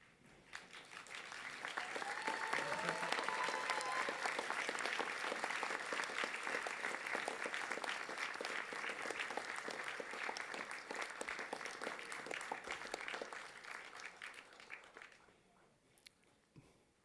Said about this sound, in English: give them a rousing round of applause because they too have earned it